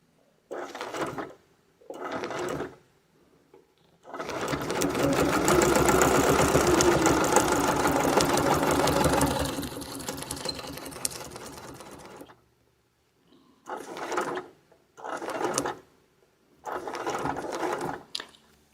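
A sewing machine stitches a wreath template in several short bursts of rapid clattering, with one long continuous run in the middle, separated by near-silent pauses.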